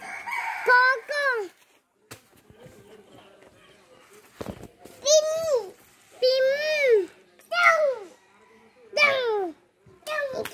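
A rooster crows several times in drawn-out, rising and falling calls, loud and fairly close, with pauses between them. Children's voices and brief chatter are heard around the calls.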